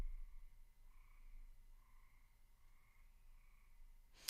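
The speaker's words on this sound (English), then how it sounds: "if you're hearing frogs outside and also crickets" Frogs croak repeatedly outdoors beside a backyard pond, a steady pulsing chorus at moderate distance that rises and falls in regular waves over faint background noise.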